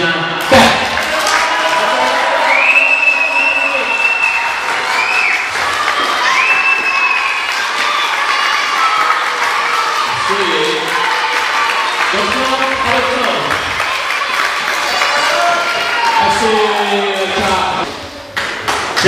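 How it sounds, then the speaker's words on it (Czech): A crowd at a school sports event with Olympians applauds and cheers continuously with dense clapping. Children shout over it and voices talk throughout, and the sound tapers off near the end. "ještě jednou jim všem zatleskejte"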